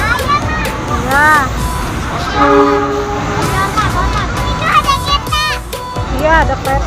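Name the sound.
train passing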